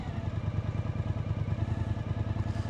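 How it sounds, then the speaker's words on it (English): A motorcycle engine runs close by in a quick, regular pulsing throb, loud and steady with no rising sweep, and nobody speaking. "as you can see, the RPM is rising as I rev the bike"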